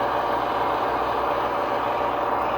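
A Blunami decoder in a model train plays a diesel engine sound, a steady, fairly loud idling rumble with an even hum and no speech over it.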